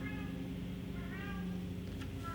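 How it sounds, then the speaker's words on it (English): A cat meows twice, a drawn-out wavering cry and then another, heard against a constant low hum with no talking. "You hear that meowing?"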